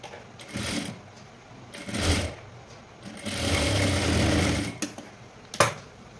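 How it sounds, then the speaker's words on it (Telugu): An electric sewing machine stitches a lined blouse, running in several short bursts and then one longer, steadier run, with close, clear mechanical whirring and no talk. "లాగకుండా స్టిచ్చింగ్ చేయాలి."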